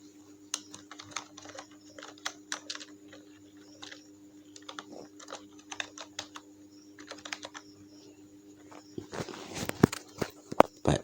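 Typing on a computer keyboard while adjusting tab stops in a word processor: scattered, close, crisp key clicks in irregular clusters, thickening into a dense flurry near the end, with no talking.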